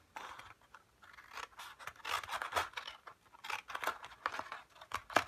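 Scissors cutting paper for a handmade art journal, giving a series of close, crisp snips and scratchy paper rustles in irregular bursts with no talking.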